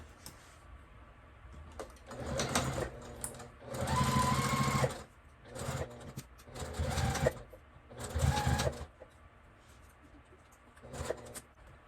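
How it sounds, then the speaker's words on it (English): A sewing machine back stitches the seam of a fabric dog treat pouch, its motor running in several bursts of rapid stitching that start and stop, separated by brief quiet pauses. "I'm back stitching at the beginning and the end of all seams."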